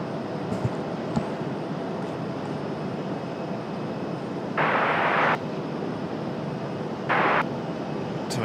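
An Icelandair airliner arrives at Raleigh-Durham airport as a steady, fairly distant jet roar that holds throughout. Two short bursts of hiss cut in near the end.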